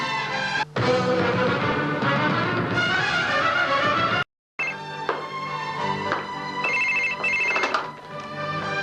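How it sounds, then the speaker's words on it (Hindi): A telephone rings with a dense, continuous tone, briefly cut off before ringing resumes; a melodic ringtone-like pattern fills the background. "हाँ वफा, आपके लिए फोन है।"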